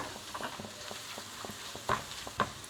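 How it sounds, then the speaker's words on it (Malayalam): A spatula stirs masala in a pan for an okra stir-fry, soft repeated scrapes and a couple of sharper metallic knocks over a faint low sizzle, fairly quiet. "ഇനി ഇത് നമുക്ക് അതിൻ്റെ ഒരു മസാലയുടെ പച്ചമണം മാറുന്നവരെ ഒന്ന് ഇളക്കി കൊടുക്കുക"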